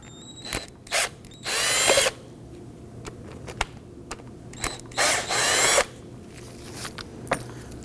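Power tool loosening 14mm brake caliper bolts on a 2018-2024 Toyota Camry, two sustained close bursts of drill-like whirring separated by short clicks and ratcheting taps, with no talking.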